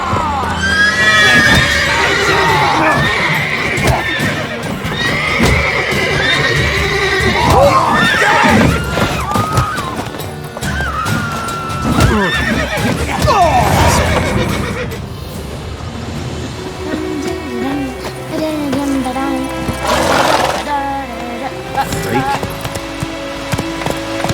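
Horses in The Witcher 3 neigh and whinny repeatedly, loud and close, with clip-clopping hooves and game voices and crowd babble mixed in around them.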